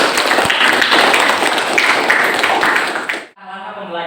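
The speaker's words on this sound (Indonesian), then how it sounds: "Tepuk tangan untuk kita semua" Applause from a class or group in an Indonesian teacher-training lesson, dense clapping filling about three seconds before cutting off into a speaking voice.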